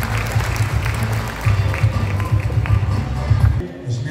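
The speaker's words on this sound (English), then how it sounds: "Let's give him a round of applause" Applause for a provincial governor at a cultural fashion show in a hotel, with brisk clapping mixed with low rumbling, shuffling and murmur over about four seconds.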